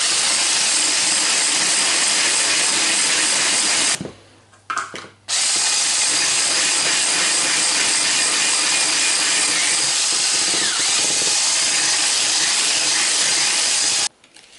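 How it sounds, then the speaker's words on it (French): Meringue being beaten with sugar and lemon juice: a loud, steady motorized whir that drops out briefly near the start, resumes and runs until it cuts off at the end, with no talking. "On vient fouetter donc jusqu'à temps qu'il n'y ait plus de grains de sucre dans la meringue"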